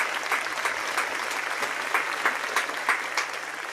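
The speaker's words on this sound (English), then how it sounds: "give Sarah a big round of applause" A round of applause during a live fresh pasta cooking class, steady moderate clapping from a small group with occasional sharper claps standing out.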